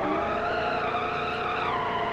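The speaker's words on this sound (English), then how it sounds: "No grip on these tyres." Auriga Heron car tyres skidding in BeamNG.drive, a steady, loud squeal of rubber sliding across the surface with an engine droning beneath, held continuously throughout without pause.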